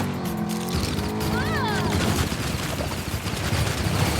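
Bursts of rapid gunfire in the racing game Lego 2K Drive, loud and dense, following a short engine whine and game effects.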